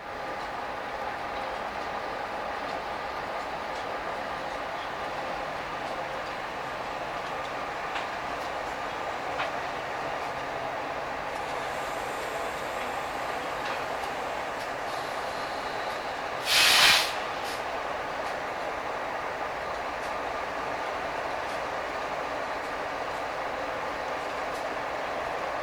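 A freight train rolling by on the Southern Transcon, a steady, even rumble and hiss from start to finish, with a brief sharp burst in the middle, heard from trackside.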